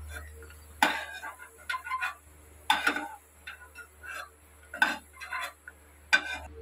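Raisins stirred with a metal spoon in a pan of ghee for flattened-rice payasam give a scattering of sharp metallic clinks and scrapes, about six separate knocks spaced a second or so apart, close and fairly quiet.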